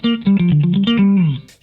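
Bass guitar run through a GFI System Rossie envelope filter in down mode, playing a short melodic phrase of about eight plucked notes with a swept, distorted, vocal-like filter tone, loud and close, ending in a brief high hiss.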